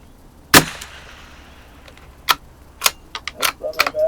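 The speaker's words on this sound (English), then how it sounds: "You shoot the top row and I'll shoot below you." Savage FV .22lr rifles fire at an outdoor range, with a sharp near crack, then several more snappy shots spaced out and clustering toward the end, while people talk in between.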